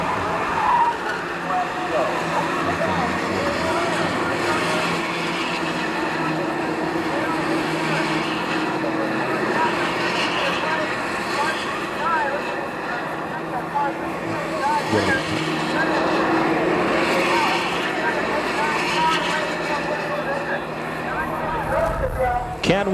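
Showroom Stock A race cars, including a Porsche 924 and a Cobra Mustang, run at a 1980 national championship, a continuous roar of engines and tires heard at a distance, with talk over it throughout.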